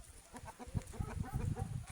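Chickens and roosters on a farm give faint, overlapping clucks in a rapid, irregular chatter, somewhat distant and quiet.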